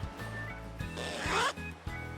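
A clothing zipper is pulled down slowly in a single steady draw, its rasping teeth growing louder midway then easing off, heard close up over a low background hum.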